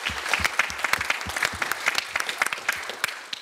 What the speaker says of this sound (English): I want first to ask the audience to give a round of applause to our panelists for their contribution